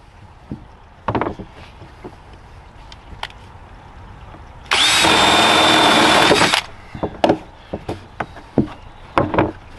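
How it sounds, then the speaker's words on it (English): A single continuous burst of a power drill whirring for about two seconds, drilling a drain hole in a bonsai pot, loud and close, surrounded by scattered clicks and handling knocks. "So I have to make sure that I'm going to drill this in the right spot."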